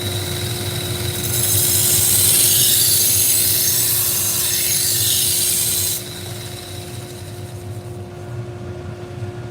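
A custom knife with a mammoth tooth handle is sharpened on a powered sharpener, a loud, bright grinding hiss lasting several seconds over a steady motor hum that continues after the grinding stops.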